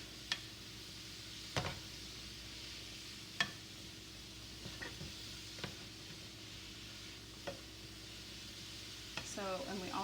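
Mushrooms cooking in a pan are stirred, giving a soft continuous sizzle broken by several sharp utensil clicks and scrapes at irregular intervals, with a brief clatter near the end.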